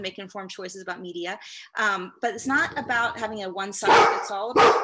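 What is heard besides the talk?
dog barking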